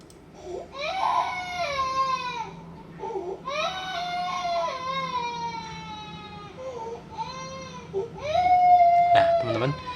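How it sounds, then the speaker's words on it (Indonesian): A recorded baby wails and cries in long, rising and falling sobs, played back loudly through a speaker for an Arduino sound sensor, continuing almost without pause and ending in a shrill cry. "Saya sudah siapkan suara bayi."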